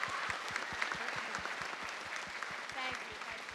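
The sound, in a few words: audience applause at school concert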